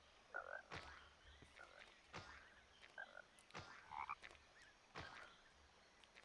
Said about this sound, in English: So many frogs.